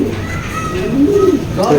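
A pigeon in a loft of colored racing pigeons coos with low, soft, steady calls close by, over a constant hum of background noise and distant chatter.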